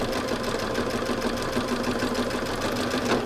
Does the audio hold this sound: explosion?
no